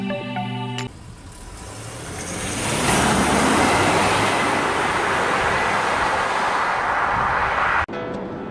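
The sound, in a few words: Jaguar XF S Sportbrake driving on the road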